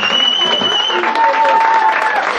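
An audience at a German fan meeting claps, a dense, even wash of applause lasting a couple of seconds, with a tonal ringing sound running through it.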